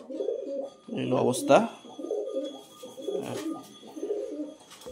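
A weak, emaciated pigeon gives soft, low coos in a repeating rhythm close by, and a person speaks briefly over the first coos.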